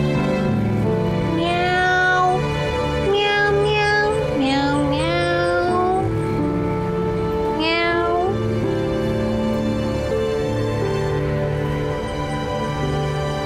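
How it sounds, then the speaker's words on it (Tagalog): A cat meows repeatedly and loudly, several drawn-out, rising and falling cries close by, with a steady background hum underneath and no speech. "Pusa ba yun?"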